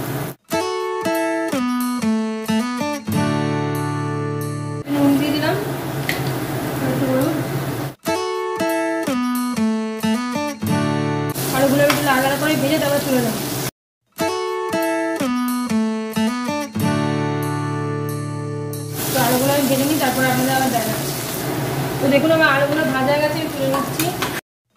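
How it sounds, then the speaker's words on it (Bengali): Potatoes fry in hot oil during a home cooking session, the same oil just used for paneer; steady crackling sizzle comes in several stretches, alternating with bright plucked background music and no talk. "তো এবার আমি আলুগুলো ভেজে দেবো এতে"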